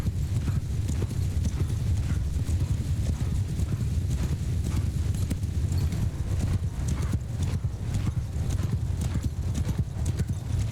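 Horse archers' mounts gallop in the video game Mount & Blade II Bannerlord, a dense continuous thunder of many hooves with occasional neighs, voices talking under it.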